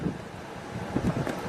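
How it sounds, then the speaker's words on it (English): Strong wind gusting through trees ahead of an Oklahoma thunderstorm, a steady broadband rush with a slight swell near the end, buffeting the microphone and heard alone. "Like, you could hear the gust coming."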